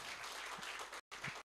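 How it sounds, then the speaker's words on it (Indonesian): An audience at a student scholarship ceremony applauds for South Sulawesi in a dense, steady wash of clapping that breaks off briefly twice. "Tepuk tangan dulu buat Sulawesi Selatan."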